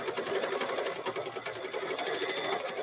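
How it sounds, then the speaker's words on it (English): A sewing machine stitching a quilt, running in a steady continuous whir of fast, even needle strokes, close and unbroken for the whole stretch. "So we're going to hit start. We're going to keep stitching."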